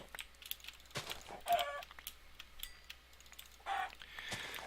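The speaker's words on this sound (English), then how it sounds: "there's a bunch of chickens in there" Chickens in a video game cluck in short, scattered bursts against a quiet background, mixed with sporadic light clicks like keyboard typing.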